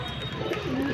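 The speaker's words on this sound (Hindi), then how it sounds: "आज बहुत ही ज़्यादा मस्ती पे हैं सारे कबूतर।" Pigeons coo in a soft, low, throaty murmur close by, a brief continuous burble from a flock kept on a rooftop, with a faint higher chirp over it.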